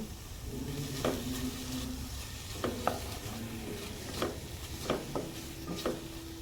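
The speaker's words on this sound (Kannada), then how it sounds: "ಈಗ ನೋಡಿ ಮ್ಯಾರಿನೇಟ್ ಮಾಡಿದ ಚಿಕನನ್ನು ನಾನು ಬೇಯಲಿಕ್ಕೆ ಹಾಕಿದ್ದೀನಿ" Marinated chicken cooking in a pan without oil over a low flame, with a soft steady sizzle and several scraping stirs and spoon knocks spaced irregularly throughout.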